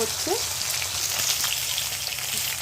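A snakehead fish head fries in hot oil, a steady close sizzle with fine crackling spatter throughout, no voices.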